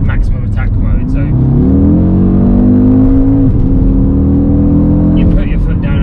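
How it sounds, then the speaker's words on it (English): An Audi RS Q3 in full RS mode accelerates hard, its engine note climbing steadily in pitch over several seconds before easing off, loud and close from inside the cabin. "press it again, and it goes into full RS mode, so everything is in maximum attack mode."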